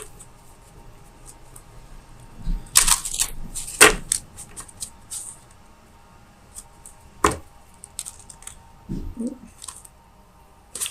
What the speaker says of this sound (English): That one popped out while I was shuffling